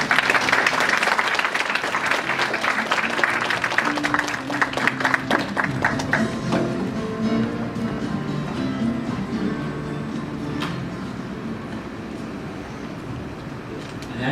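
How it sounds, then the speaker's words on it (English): A lecture audience at a youth forum on cyberspace gives a warm welcoming round of applause for a speaker, loud and dense at first, then thinning and fading gradually over the remaining seconds. "Ladies and gentlemen, please welcome him with a warm round of applause."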